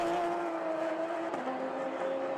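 Touring race cars on a circuit in the Baltic Touring Car Championship, including a Volkswagen and a Porsche Cayman. A steady droning engine note holds pitch, then shifts slightly as a car passes, loud and continuous without talk.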